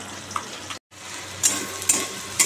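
Onion and green chilli frying in a pan of fish curry, a soft steady sizzle with a few louder crackling bursts and a brief dropout near the start.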